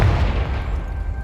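A Confringo blasting spell in Hogwarts Legacy goes off as one short, loud, booming burst with a heavy low-end thump that decays quickly.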